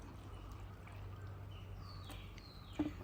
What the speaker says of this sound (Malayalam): ഒരു കപ്പിനകത്ത് ഞാനിപ്പോൾ ഒന്ന് ഒഴിച്ച്